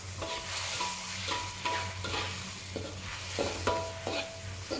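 Butter shrimp cooking in a pan after milk is poured in, a soft continuous sizzle with a low simmering hum, broken by repeated scraping stirs of a utensil against the pan.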